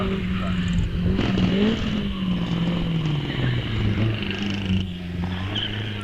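A loud vintage sports car engine at a hillclimb drones and gradually winds down in pitch, with a few sharp crackles and pops from the exhaust.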